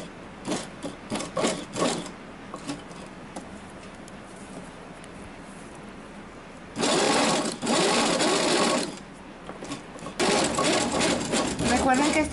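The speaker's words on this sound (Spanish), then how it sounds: "Cosemos hasta el final. Dejo la aguja abajo. Levantamos el prensatela." Sewing machine stitching a Brazilian bikini swimsuit, running in steady whirring bursts of a couple of seconds, separated by pauses filled with quieter handling and someone talking.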